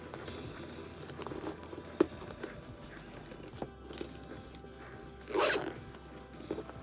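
A zipper on a thrifted bag's interior pocket is worked at close range, with a brief zip rasp among small handling taps and rustles.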